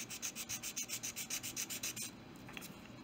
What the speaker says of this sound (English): Now grab my sanding stick and run the barrel across that.